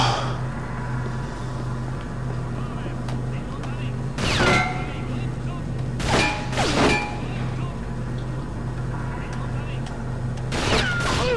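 A few sharp gunshots in the video game James Bond 007: Nightfire crack out at irregular intervals over a steady electronic hum and background game noise.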